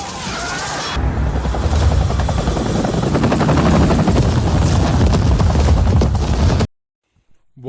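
Loud helicopter rotor thumping in an action movie scene, a dense steady roar with rapid blade pulses that starts abruptly and cuts off sharply near the end.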